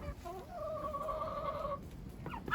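Impatient ducks kept in a winter poultry yard give a drawn-out, nasal call lasting about a second, close by, followed by short squawks, with no talking.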